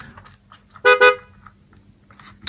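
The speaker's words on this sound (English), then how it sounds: "Okay, let me check the horn." A toy car horn sounds two quick, loud, buzzy honks back to back, followed by faint handling noises and a brief click near the end, with no voices.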